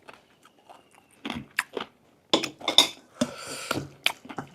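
Rice mixed with Hang Le chicken curry is chewed close to the microphone, with irregular wet bites, squishes and crunches in short bursts and quiet pauses between them.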